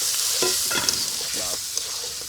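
Close, steady sizzling of coral fish frying in a pot, with scraping and stirring sounds from a utensil moving through the oil.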